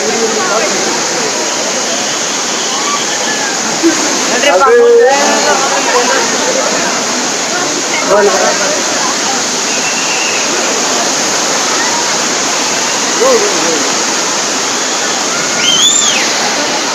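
Amboli waterfall in Maharashtra, on the Goa to Pune route, pours down in a loud, constant broadband roar of rushing water, with crowd chatter and a few voices over it.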